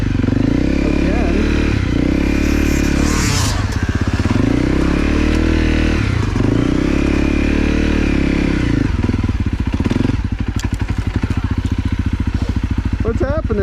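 A motorcycle rides through mud and snow, its loud engine droning close and continuously, revving up and easing off in repeated swells, while a rider talks over the noise.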